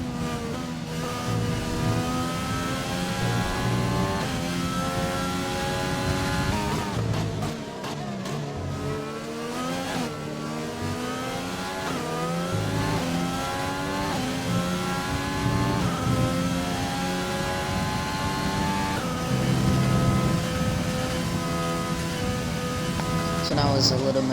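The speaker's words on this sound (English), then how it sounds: "I'm gonna let you guys have the pleasure of watching and listening to the Renault engine" A Renault Formula 1 race car engine in a racing video game screams at high revs for over twenty seconds, pitch repeatedly sweeping up through gears and dipping under braking, loud and continuous.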